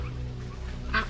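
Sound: mallard duck calling

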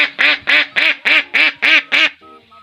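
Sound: ducks quacking

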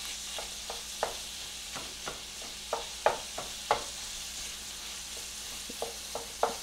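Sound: bolognese sauce base sautéing in pan

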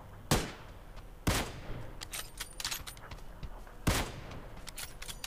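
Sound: Kar98 rifle gunshots in the video game New State

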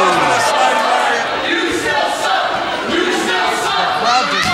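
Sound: wrestling crowd reacting to a wrestler

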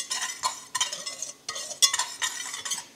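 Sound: whisking custard powder and sugar in a saucepan

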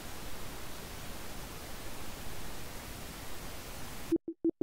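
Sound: stereo pink noise generator in SuperCollider, reduced 20 dB

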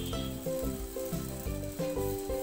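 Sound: uttapam batter sizzling on a greased pan

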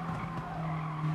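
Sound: race car tires squealing from understeer in Gran Turismo Sport video game

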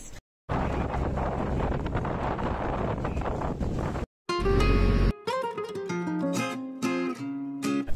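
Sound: strong wind

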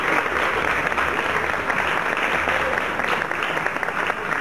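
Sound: applause from audience

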